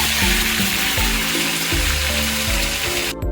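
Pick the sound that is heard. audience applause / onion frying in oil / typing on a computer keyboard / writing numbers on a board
onion frying in oil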